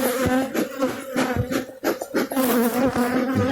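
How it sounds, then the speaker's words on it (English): Honey bees buzzing steadily at an open beehive, a dense, close swarm drone with shifting pitch and a few knocks from handling the hive boxes. "get the bees away from me."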